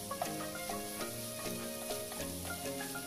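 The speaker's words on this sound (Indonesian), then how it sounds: "kita tumis dulu sampai dia matang dan kering" Marinated chicken stir-fries for fried noodles, a steady close sizzle with rhythmic scraping and clinking of a spatula against the pan about twice a second, no voices.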